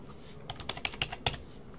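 A computer keyboard clicks as a number is typed in, five or six quick close keystrokes in a short burst with quiet room tone around them.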